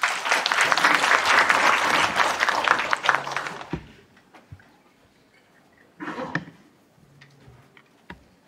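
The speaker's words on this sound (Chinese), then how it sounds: "请大家掌声欢迎 Chris" A crowd claps in welcome for a speaker at a hacker conference event, the applause loud and sustained for several seconds before cutting off, followed by a few scattered knocks and a brief renewed patter.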